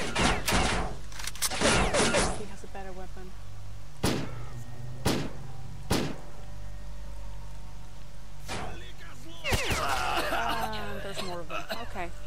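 Enemy mercenary gunfire in the Lost Alpha shooter game: several sharp, separate shots spaced a second or two apart, loud against a low steady hum, with someone talking and chuckling between them.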